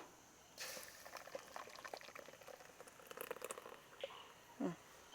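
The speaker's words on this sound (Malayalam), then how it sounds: "നമ്മുടെ ഗ്രേവി ഒന്ന് തിളച്ച് വന്നിട്ടുണ്ട്" Butter chicken gravy simmers in a pan, giving off quiet, steady bubbling with scattered pops and crackles close by and no voices.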